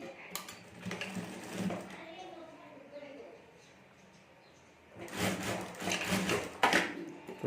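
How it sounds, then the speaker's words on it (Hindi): A sewing machine runs in short bursts while stitching a pocket onto a homemade clutch bag, with a quieter pause between the runs and someone talking over it. "यहाँ हमें सिलाई कर देनी है"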